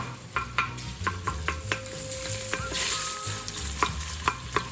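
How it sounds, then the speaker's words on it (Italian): Smoked pancetta bacon sizzles loudly in a pan of soffritto vegetables while being stirred for a traditional lasagna ragù. The crackle is steady and close, broken by repeated sharp scrapes and clinks of a utensil against the pan. "Quindi prendiamo il bacon e lo mettiamo. Sentite come sfrigola."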